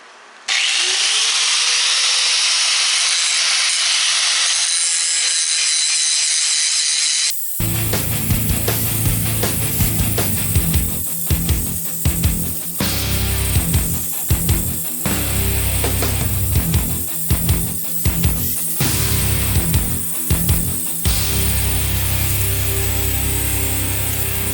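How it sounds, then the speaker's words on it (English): A die grinder with an abrasive wheel removes casting marks from the rear end of a 1968 Mustang. A thin whine spins up first, then loud, harsh grinding runs steadily with brief repeated drop-outs as the wheel lifts off the metal. "Take like a little die grinder with an abrasive wheel on it"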